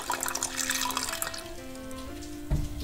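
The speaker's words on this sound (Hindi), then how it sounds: "इसमें हम आधी कटोरी जो है वो पानी डालेंगे" Half a bowl of water poured into a cooking pot with butter and salt while making baby food, a steady splashing trickle that runs for a few seconds and ends with a small knock.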